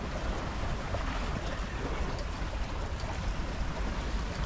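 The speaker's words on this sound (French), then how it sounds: "on fait un peu de la voile là" A sailboat under sail off Gruissan with the engine off, a steady broadband wash of wind and water rushing past the hull, with constant wind buffeting on the microphone and no voices.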